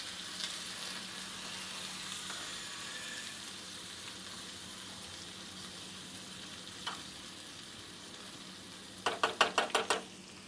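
Ginger-chili-garlic paste sautés in oil in a pan with a soft, steady sizzle, then a quick run of about six sharp metallic taps near the end.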